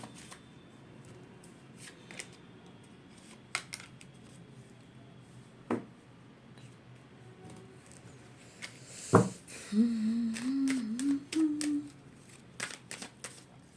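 Cards are shuffled during a tarot reading, with soft riffling and scattered quiet taps followed by a sharper burst. A low voice murmurs briefly afterward.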